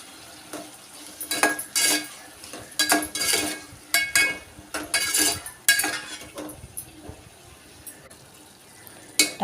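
Tomatoes softening in a pan for Andhra-style egg curry, stirred with a metal spoon: irregular bursts of scraping and clinking against the pan over a faint, steady sizzle, close and moderately loud, with no talking.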